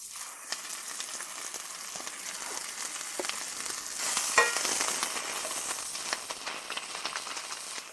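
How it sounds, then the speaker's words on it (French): Sliced sweet onions and shiitake mushrooms fry in olive oil in a pan, giving a steady, fairly quiet crackling sizzle with small pops and stirring that runs throughout, with no talking. "Je fais cuire cette eau avec les oignons et les champignons pour en éliminer une grande partie."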